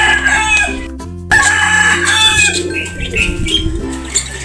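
A rooster at a pigeon loft crows loudly and close by, a drawn-out call with a brief pause, then clucking and restless fowl noises follow. No one speaks.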